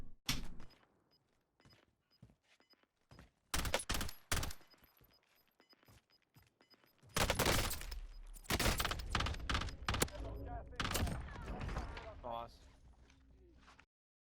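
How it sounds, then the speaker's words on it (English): Gunfight in the video game Call of Duty Warzone, with scattered bursts of gunfire, short sharp cracks early on, then a loud sustained stretch of rapid shots and impacts, mixed with talking. "Let's see what happens in this gunfight."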